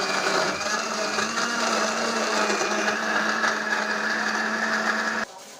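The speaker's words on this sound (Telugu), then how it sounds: "దీన్ని అయితే ఇప్పుడు మిక్సీ పట్టుకుందాం" Kitchen mixer grinder blending banana juice runs as a steady, loud whirring drone for about five seconds, then cuts off abruptly near the end.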